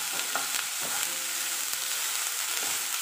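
Chopped vegetables sizzle in a hot pan while being stirred, with a continuous bright frying hiss and occasional scraping strokes, close and loud, no talk.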